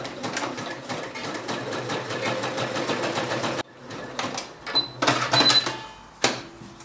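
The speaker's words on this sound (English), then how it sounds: "Back at our sewing machine, we'll be running a zigzag stitch." A sewing machine running a zigzag stitch on trouser back pockets runs steadily for a few seconds, pauses, then stitches again in short bursts with clicks and mechanical whirring.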